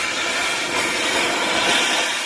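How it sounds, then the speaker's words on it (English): Cutting torch burning a nut off a bolt, giving a steady, loud roaring hiss that runs unbroken throughout with no talk. "Now you can burn that nut right off."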